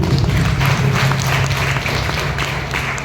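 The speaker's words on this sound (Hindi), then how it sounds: "एक बार जोरदार ताली आपको।" Audience applause at a corporate success-stories talk, a steady wash of many hands clapping for about three seconds, fairly loud and continuous with a low hum beneath, no voices over it.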